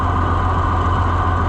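A John Deere 9650 combine's engine idles close by while cooling its turbocharger, producing a steady, loud low rumble with an even mechanical drone and no change in pace.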